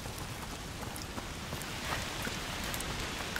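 Steady rain falls in the game A Plague Tale: Requiem, a dense even hiss of drops on surfaces with scattered louder patters throughout, constant and close with no voices.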